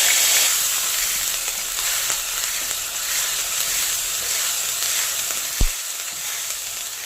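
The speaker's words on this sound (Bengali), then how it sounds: "হিং আর মেথি হয়ে গেছে, এবারে পেঁয়াজ বাটা দিয়ে দেব" Onion paste fries in hot oil seasoned with asafoetida and fenugreek for a dhaba-style okra dish, making a loud, steady sizzle throughout with one brief low thump near the end.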